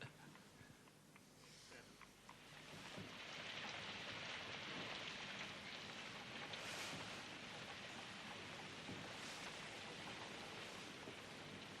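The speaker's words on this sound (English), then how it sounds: "Oh, it's raining, Plantagenet." Heavy rain pours down outdoors as a dense, continuous hiss that swells after a couple of seconds and stays loud and even, with no talking.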